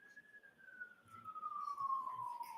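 An emergency siren passes outside, its single wailing tone sliding steadily downward as it goes by, moderately loud over a quiet low background rumble.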